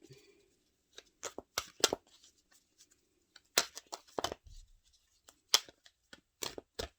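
Tarot cards being shuffled and handled up close, producing sharp, irregular riffling snaps and short slaps separated by quiet gaps.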